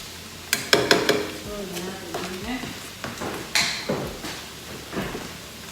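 Cauliflower fried rice in a pan, stirred with scraping utensil clicks and a soft sizzle underneath, a few sharp knocks and clatters spread through the stretch, fairly close and moderate in volume.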